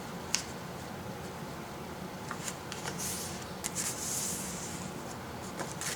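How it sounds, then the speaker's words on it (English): Sheets of paper are folded by hand for an origami sofa, making soft, close crinkles and rubbing swishes in short irregular bursts with no talking. "First fold like this, another fold like this,"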